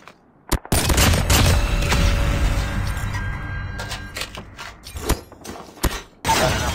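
A sentry gun in Call of Duty Mobile opens fire in a long, loud, continuous burst of rapid gunfire lasting several seconds, broken by a few sharp separate shots and thuds.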